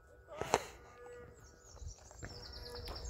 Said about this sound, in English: that's probably mama cow up there going, where'd you go?